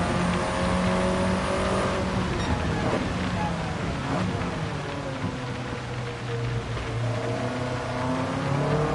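A Nissan S14 Silvia, front-engine and rear-wheel drive with a factory four-cylinder, revs and slides in Gran Turismo 7, its engine note rising and falling steadily, with rain noise behind and a voice talking over it.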